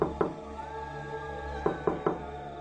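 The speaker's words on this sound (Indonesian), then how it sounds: "aku mendengar suara ketukan di pintu. Ketukan itu lemah, nyaris tidak terdengar" Faint knocking on a door in two bursts, a double tap and then three light raps, soft and somewhat distant over a steady low hum and a quiet musical background.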